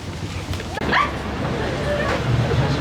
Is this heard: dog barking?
yes